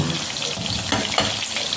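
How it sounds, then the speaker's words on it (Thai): Pork bones frying in oil: oil sizzles and crackles steadily in a pan, with occasional bursts of louder spattering, close up. "ทอดกระดูกหมูจ้าเมนูทอดกระดูกหมู"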